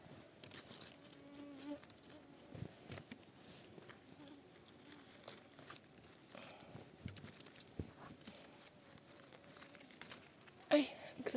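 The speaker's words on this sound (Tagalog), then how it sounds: "Ay, grabe yung lamok, ang dami." Thin, high buzzing of many mosquitoes hangs over the whole stretch in a forest while picking chanterelle mushrooms, a swarm-like whine with scattered rustles and faint voices in the background.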